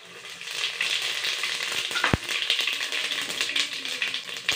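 Bay leaves, asafoetida and cumin sizzle in hot oil, a continuous crackling fry at close range with one sharp tap or clink partway through. No talking is heard.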